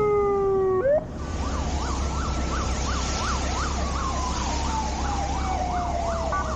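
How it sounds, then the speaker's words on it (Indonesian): An ambulance siren on a Malaysian road wails in a steady rising-and-falling cycle, loud and close, over a low traffic rumble, after a brief horn-like tone at the start; no one speaks. "ambulan dah sampai."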